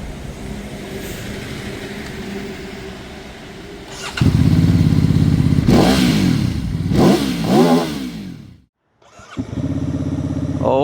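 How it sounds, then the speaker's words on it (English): A Benda 707 motorcycle engine fires up loud and close, idling with a rough throb before several sharp revs rise and fall, then cuts out briefly and restarts. "That's loud as hell. That's very loud."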